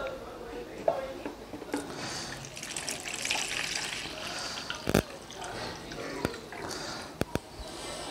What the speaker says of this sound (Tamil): ரோஸ் மில்கை ஊற்றிடலாம்.